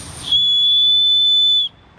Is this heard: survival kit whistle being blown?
yes